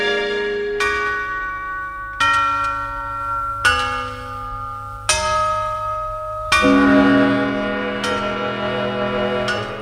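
A church tower bell in a city belfry strikes about six times at a steady, unhurried pace, each loud ringing stroke overlapping the hum of the one before over a low background drone.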